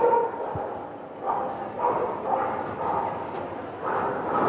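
Dogs barking and yipping at a dog show, several short, faint, uneven barks at a distance with indoor ambient murmur.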